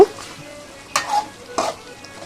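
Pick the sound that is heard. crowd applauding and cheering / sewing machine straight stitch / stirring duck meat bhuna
stirring duck meat bhuna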